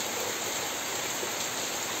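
Steady rain falls on pasture in Pará, Brazil, a dense and even hiss with no breaks and no voices.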